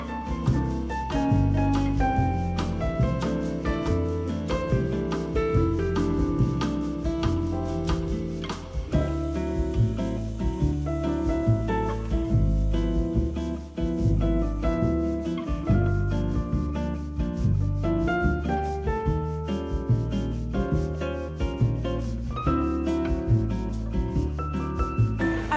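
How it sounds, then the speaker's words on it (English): Weaving on a small 8-harness Structo table loom produces continuous rhythmic wooden knocking and rubbing from the harnesses and beater, loud and close, with no voices. "I grabbed my little 8-harness Structo loom that I threaded last week"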